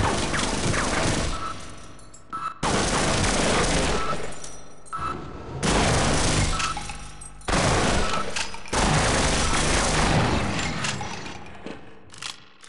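Repeated heavy gunfire from a shotgun in Half-Life, loud bursts of blasts in four or five long clusters separated by brief gaps, with clattering mechanical noise between shots.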